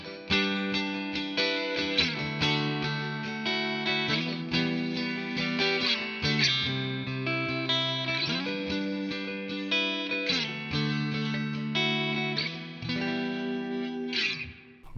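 A Squier Stratocaster electric guitar at full volume with flat EQ and heavy reverb rings out in repeated strummed chord phrases, loud and close, with a slightly gritty edge and no talk.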